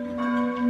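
A church bell rings in a celebrating town, a steady sustained tone with strong harmonic overtones droning on without a break, fairly loud and heard alone.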